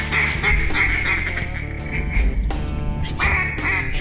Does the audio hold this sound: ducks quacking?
yes